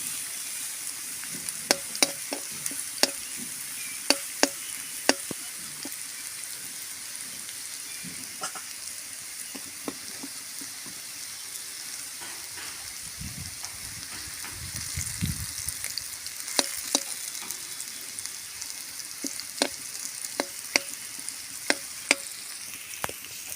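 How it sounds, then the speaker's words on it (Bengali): Potatoes fry in oil with cumin and a bay leaf, giving a steady close sizzle broken by scattered sharp ticks and spatter pops, with a brief low rumble of stirring midway and no voices. "আলুটা ভাজা হয়েছে।"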